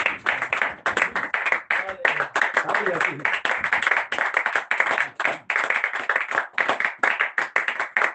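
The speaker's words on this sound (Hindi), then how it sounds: "एक बार जोरदार तालियां बजा दो।" A church congregation applauds loudly, a dense, continuous patter of many hands clapping close by, with a voice briefly talking underneath partway through.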